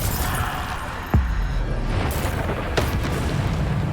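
A Bombarda spell blast in Hogwarts Legacy: a deep boom lands about a second in, followed by a second, lighter burst near the end, both sitting in a dense, rumbling game-combat background.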